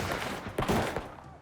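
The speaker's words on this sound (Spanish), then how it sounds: "Mientras continuaban los disparos" Gunfire crackles during a shootout between law enforcement and suspects around a car, several sharp cracks and bursts layered over a continuous rough background roar.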